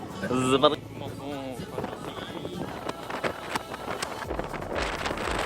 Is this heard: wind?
yes